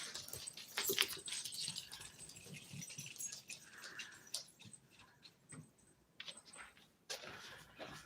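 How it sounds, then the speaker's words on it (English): A dog whimpers and yips in soft, uneven bursts, moderately close, with rustling and a jingle of keys or tags around it and no clear talking. "he thinks he's a farm dog"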